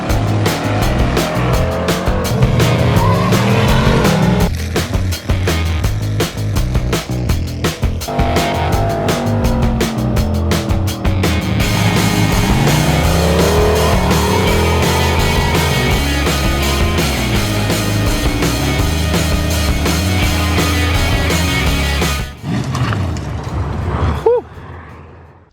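LS4 V8 swapped into a Pontiac Fiero cranks, catches and runs loud and close, a steady rumbling idle with revs rising and falling before cutting off near the end.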